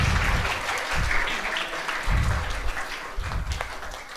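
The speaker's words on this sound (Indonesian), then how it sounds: "Tepuk tangan dong." Audience clapping in a hall during an Islamic religious lecture in Indonesia, a dense steady patter of many hands heard alone, with low rumbling bursts beneath at intervals.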